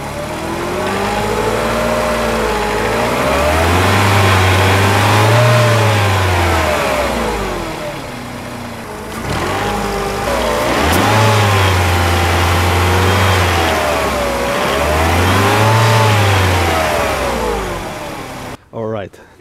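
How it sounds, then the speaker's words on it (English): A 2002 Mercedes C200 W203 engine is revved repeatedly in three long swells, each rising from idle to a loud sustained roar and falling back, close up, with someone talking over the idle between revs. "Now if I rev up the engine"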